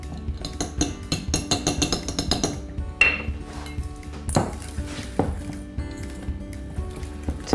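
A whisk rattles quickly against a bowl, mixing powder for a raw chocolate pudding, in a run of rapid rhythmic clinks, then a few heavier taps and knocks as the mixing slows.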